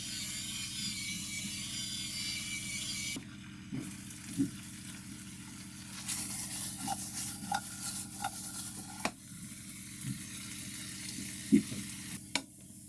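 Fish frying in a pan while on a boat trip, a steady sizzle with scattered clicks and scrapes as the fillet is pressed down, moderately close, a low hum beneath, no talking.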